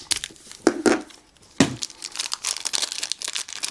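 Crinkling plastic bag with tape being cut by a knife, sharp rustles and two distinct crunchy tears among continuous close crackling, no talking.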